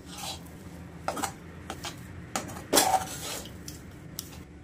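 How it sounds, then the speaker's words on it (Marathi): Kachori filling is sautéed in a pan, with intermittent scraping and clinks of a spoon against metal, close and fairly quiet, no talk. "आता चला मस्त परतून घ्यायचं."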